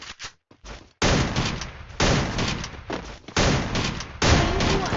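Gunfire in the mobile battle royale game Free Fire during an esports match: a few sharp isolated shots, then four loud sustained bursts of rapid fire in quick succession, close and dominant.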